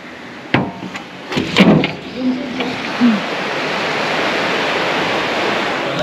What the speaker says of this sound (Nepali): खोलै रहेछ भाइ ऊ छेउमा बगिरहेछ